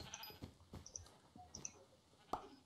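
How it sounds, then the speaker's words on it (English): Quiet Minecraft scene with a few soft, brief sheep bleats scattered among light clicks and small game noises, faint and intermittent with no talking. "The sheep are camouflaged."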